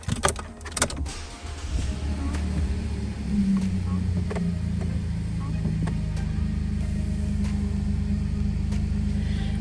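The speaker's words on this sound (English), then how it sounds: "now that the engine is running and the dashboard's lit up" A 2020 Chevrolet Colorado 4WD LT pickup starts with a key, then settles into a steady low idle heard from close range after brief clicks and handling noises.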